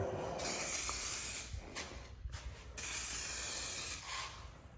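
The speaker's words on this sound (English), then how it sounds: "we'll spray that last coat" A spray gun lays the final coat of paint on a Porsche roll cage, giving close, loud bursts of hissing spray that start and stop in several passes with short pauses between.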